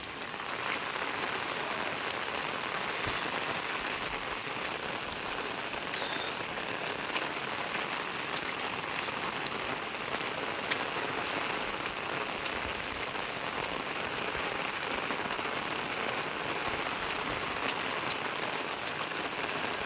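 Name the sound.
heavy rain falling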